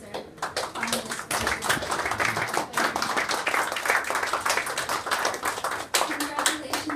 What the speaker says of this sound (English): Please stand up and let's give them both a round of applause as our finalists.